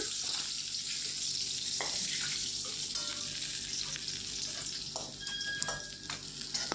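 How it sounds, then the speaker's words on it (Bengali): Katla fish pieces frying in oil in a kadai, a steady close sizzling hiss that runs the whole time with a few faint clinks, and no voices. "এগুলো আমরা সেমভাবে ভেজে নেব এপিট ওপিট করে"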